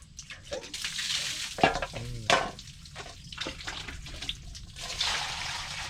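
Water splashing and sloshing as the water is changed while washing raw chicken, with uneven pours and stirring-like swishes, plus a few sharper clinks and splashes close by.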